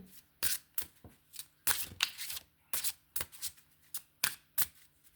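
Tarot cards are shuffled and riffled in quick, crisp bursts, about a dozen sharp flicks in an uneven rhythm, close and fairly quiet, with cards flying out.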